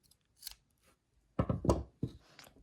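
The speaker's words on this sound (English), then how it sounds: "Take your scissors and cut a nice long strand." Scissors snip through a long strand of yarn during crochet work, a faint early snip followed by two or three close, crisp cuts in quick succession in a quiet room.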